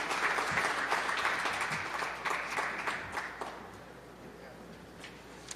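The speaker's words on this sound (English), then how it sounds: "Please give him a huge round of applause." Audience at a mayor's press announcement applauding for Reginald, a steady wash of clapping that gradually fades out over several seconds.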